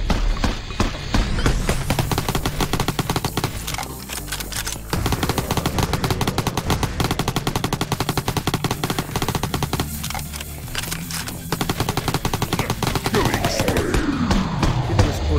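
Rapid machine-gun fire rattles almost nonstop in Ultimate Zombie Defense, a dense, loud stream of shots with brief gaps and a few heavier blasts, under occasional faint talk.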